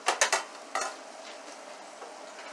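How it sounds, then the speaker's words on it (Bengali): Ridge gourd and poppy seed curry is stirred in a pan: three quick scraping strokes, then another after a short pause, over a soft sizzle. "একটু নেড়ে দিয়ে"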